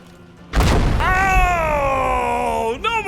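A grenade goes off in a video game with one sudden, loud, booming blast, followed by a long, sustained ringing tone that fades near the end.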